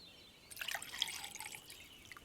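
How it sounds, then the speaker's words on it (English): Tea is poured into a cup in a cartoon scene, a short trickling splash of liquid lasting about a second and a half, fairly clear with no talk. "Could you pour me some more tea"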